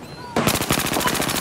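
Rapid automatic gunfire in Battlefield 4 erupts after a brief quiet moment and continues as a loud, steady burst of closely spaced shots.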